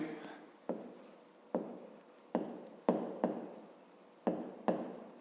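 Pen on paper writing out a math solution by hand, heard as close, quiet bursts of scratchy strokes that start sharply and fade, repeating roughly every half second to second, with faint talk in the background.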